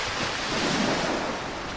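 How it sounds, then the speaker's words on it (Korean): Rough ocean surf crashing under strong wind, a steady loud roar of breaking waves and gusting air with no break throughout, like a storm at sea around a small boat. "결국엔 거센 파도가 학생들이 타고 있던 배를 덮치고 말았고"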